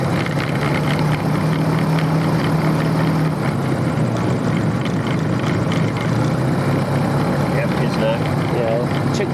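Motor glider piston engine droning loudly and continuously during a pre-flight run-up check, a steady buzzing hum with a pitch shift partway through, pilots talking over the intercom.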